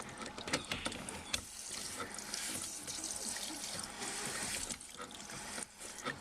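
Water runs steadily from loosened dishwasher plumbing during removal of the appliance, a continuous splashing rush at moderate level with a few knocks, no talk.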